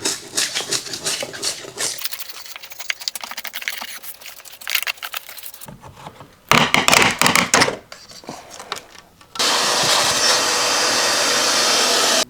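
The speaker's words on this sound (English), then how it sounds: "What's holding that down was this insulation foam, maybe some great stuff. So we gotta go and scrape this off." Insulation foam is scraped off an exterior door frame with a tool, giving close, loud bursts of raspy scraping and crunching broken by pauses, ending in a long steady stretch of scraping.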